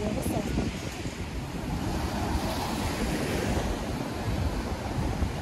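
Mediterranean sea waves at Saidia beach in Morocco, a steady broad wash of surf with wind noise on the microphone, continuous and fairly loud throughout with no distinct pauses.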